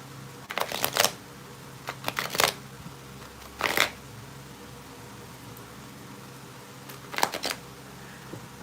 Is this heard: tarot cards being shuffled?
yes